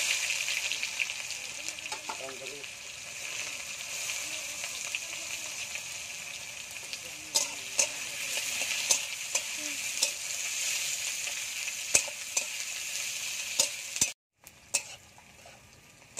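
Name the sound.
onions frying with cardamom, cloves, cinnamon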